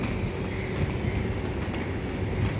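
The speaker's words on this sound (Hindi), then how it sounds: "अच्छी हवा चल रही है" Wind blows steadily outdoors at a skating practice ground, a constant broad rushing buffet across the microphone with no clear gusts or voices.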